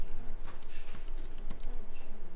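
Mac computer keyboard pressed to switch applications with Command-Tab, a quick run of close, crisp key clicks and taps over a steady low room hum, no talk.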